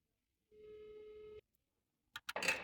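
A phone call to a gate opener gives a single steady electronic tone lasting about a second, then silence before a few sharp clicks and a burst of noise close by.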